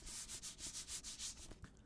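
A new book being handled up close for ASMR, its pages or cover rubbed in a steady series of soft, rhythmic scraping strokes that end in a few lighter taps.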